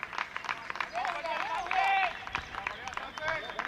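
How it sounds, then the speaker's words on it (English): A crowd of Romanian supporters cheers at a T10 cricket match, a noisy swell of shouts and whistles that peaks midway, with commentary voices talking over it. "Big cheer from the Romanians."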